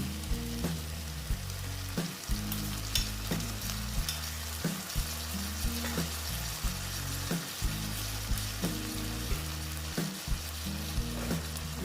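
Okra being stir-fried in a pan with a splash of water, a steady close sizzle broken by regular scraping strokes of a spatula roughly every second.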